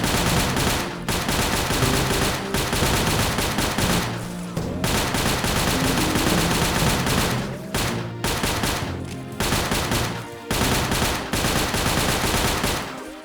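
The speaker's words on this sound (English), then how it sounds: "Submachine gun bullets have sufficient killing power." Submachine gun fire in the video game Faces of War comes as loud, dense bursts of rapid automatic shots, with repeated volleys separated by short pauses.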